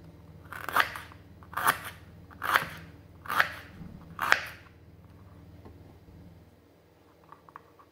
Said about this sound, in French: maintenant on va couper tout ça en petits morceaux parce que je voulais mixer.